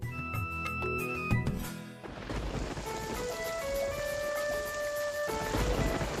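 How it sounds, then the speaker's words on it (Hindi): Steady rain falls in Mumbai as a continuous wash of patter and hiss, with a brief music passage at the start and no talking. "आपको पता है आज मुंबई में बारिश हो रही है।"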